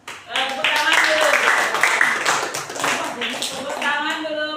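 A class of students claps for a classmate during a floor gymnastics lesson on forward rolls, steady close clapping lasting several seconds with children's voices and talk mixed in throughout.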